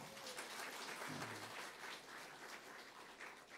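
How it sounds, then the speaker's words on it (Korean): Faint, steady applause from a Korean church congregation clapping for the service accompanist, a soft, even patter of many hands sounding distant and quiet throughout. "박수 한번 쳐드리셔요"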